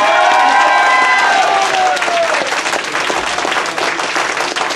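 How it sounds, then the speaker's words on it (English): Church congregation at an outdoor street-church talent show bursts into loud, dense applause with cheering and whoops, sustained throughout, a shouted voice briefly over the start. "one good hand clap for Jesus."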